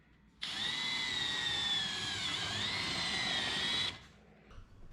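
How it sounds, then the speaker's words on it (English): A drill whines steadily for about three and a half seconds, its pitch dipping slightly midway as it bores holes through the sheet metal dash of a dirt late model race car, close and alone. "We got to drill some holes out here"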